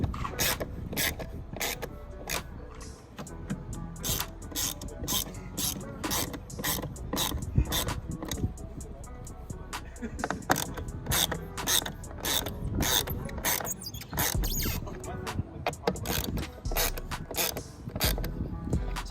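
A ratchet cinches down bolts on Recon cab lights on a Ford F250, producing a long, steady series of close, crisp clicking strokes with small pauses, no talking over it.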